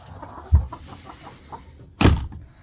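Hens in a homestead chicken coop, a couple of short clucking bursts close by, with a louder flurry near the end, in a quiet shelter with no talk.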